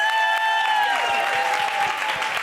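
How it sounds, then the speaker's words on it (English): Crowd applause for the winner of a Wind Games solo speed round, steady dense clapping that starts under a fading sustained tone and carries on evenly to the end, with no talk. "Give a big round of applause from Poland"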